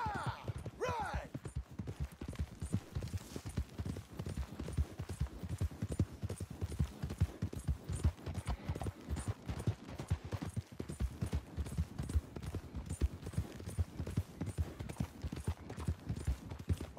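Horses in the video game Red Dead Redemption 2 galloping, with rapid, continuous clip-clop hoofbeats that stay steady and moderately loud throughout, over faint background sound.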